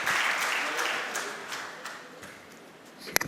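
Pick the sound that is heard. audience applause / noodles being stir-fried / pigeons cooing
audience applause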